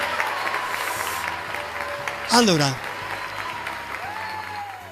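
Applause from a television studio and control room on a live broadcast, a light patter of clapping running beneath someone speaking, with a brief rising electronic tone partway through.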